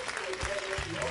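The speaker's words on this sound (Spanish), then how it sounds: "Aplausos para él." Game show studio audience gives a short burst of applause, brisk clapping heard alongside a voice in the room.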